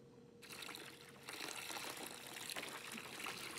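Wort pours in the brewing game Brewmaster: Beer Brewing Simulator, a steady splashing gush that starts after a brief quiet moment and grows fuller midway, continuing without a break.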